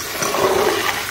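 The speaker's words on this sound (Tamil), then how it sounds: "ஸோ இதில் கொஞ்சம் தண்ணி அரைச்சிக்கலாம்" Water pours from a bucket onto garden plants in a loud, close, continuous gushing splash lasting about a second, with no talking.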